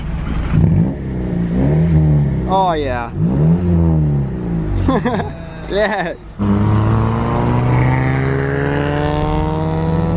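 A Honda Civic with a muffler delete revs loud and close: voices talk over a rough engine at first, then a steady, droning exhaust note rises and holds for several seconds.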